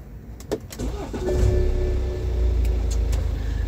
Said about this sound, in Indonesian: meskipun ini mobil diesel, udah ciri khas sih suaranya